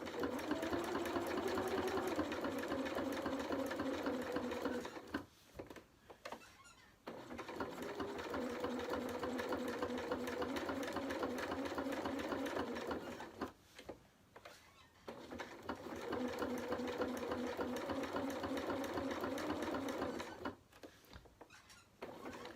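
A sewing machine runs steadily while stitching triangle bunting fabric, in three long passes of several seconds each, separated by short pauses as the fabric is turned at the point.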